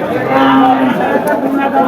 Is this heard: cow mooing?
yes